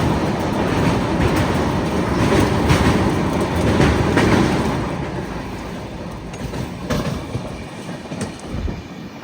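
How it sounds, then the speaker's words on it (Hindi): Passenger express train on the Pune–Kolkata Humsafar run racing alongside a freight train, a steady loud rumble of wheels and wagons with rhythmic clacking and occasional sharp squeals, easing slightly in the second half. "मालगाड़ी के साथ पैरेलल रेस, अब ये बहुत देखने वाला है"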